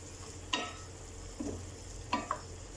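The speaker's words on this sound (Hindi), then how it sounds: "टमाटर हमारे गल चुके हैं, अब हम इसे भूनेंगे" Chicken and potato curry with softened tomatoes fries in a pan, a low steady sizzle under a few distinct spoon scrapes and taps against the pot, with no talking.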